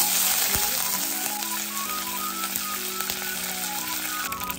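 Mustard seeds and cumin fry in hot oil while egg masala is made, a loud, continuous crackling sizzle up close with faint tonal sounds beneath and no one speaking.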